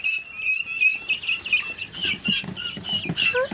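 A chick on a farm peeps in a series of high, thin chirps, close by, with a faint low background rustle.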